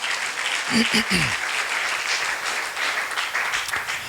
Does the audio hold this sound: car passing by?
no